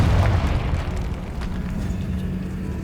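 Confringo spell blast in the video game Hogwarts Legacy, a loud low boom at the start that settles into a sustained rumbling roar across the whole stretch.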